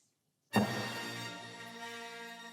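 A full orchestra bursts in loudly on a sustained brassy chord of the Star Wars main title after a brief silence, rich and powerful, ringing on without pause.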